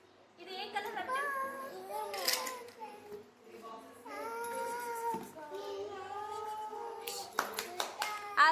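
Children clapping their hands during a playful classroom session, a short burst of quick claps near the end after stretches of a child's singing and adult talk.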